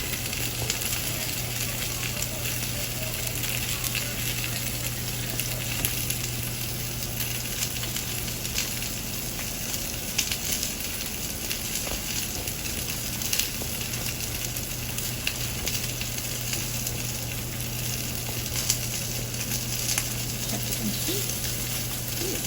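Salmon sizzling steadily in a hot pan, a dense continuous frying hiss with faint crackles running throughout, close and fairly loud with no talk over it.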